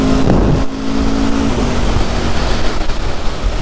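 Aprilia RSV4 sport motorcycle accelerating at partial throttle on an open road, its engine note rising under heavy wind roar, loud and close with no talking.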